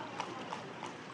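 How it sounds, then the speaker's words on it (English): A horse pulls a cart on a town street in Cardenas, Cuba, with hooves clip-clopping in a steady, even rhythm, fairly faint against low background noise. "They also turned to horse-drawn carts, decommissioning buses and taxis in an effort to save fuel."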